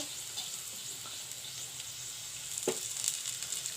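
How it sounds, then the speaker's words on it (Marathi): Potato slices coated in semolina fry in oil in a pan, giving a quiet, steady sizzle with a few soft taps and one brief scrape of a utensil, heard close with no speech. "दुसऱ्या बाजूनेही व्यवस्थित फ्राय होऊन देऊयात"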